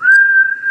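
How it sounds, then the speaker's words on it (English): One short, clear whistled note from a lumberjack character, steady in pitch, close and loud, with no talk over it. "just whistling"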